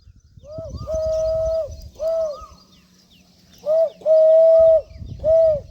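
A voice imitates a dove's cooing, repeating several drawn-out hooting coos in short bursts with brief pauses between them.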